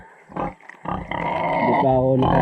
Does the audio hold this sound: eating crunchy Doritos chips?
no